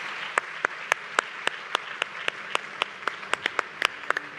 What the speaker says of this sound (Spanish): Pido un fuerte aplauso a nuestros 4 panelistas de lujo.